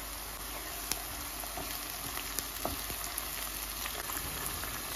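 Onions and carrots fry in oil with tomato paste, making a close, continuous sizzle with scattered crackles and a few stirring knocks. No one speaks.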